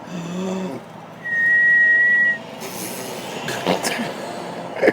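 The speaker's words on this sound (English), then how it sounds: "How you whistle" A thin, steady whistle held for about a second, a child's attempt, with adult talk and background rumble around it.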